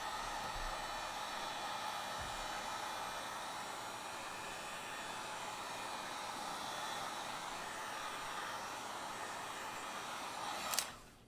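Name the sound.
heat gun heating Galaxy S22 Ultra screen corner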